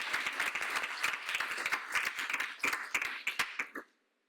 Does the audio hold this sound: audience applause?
yes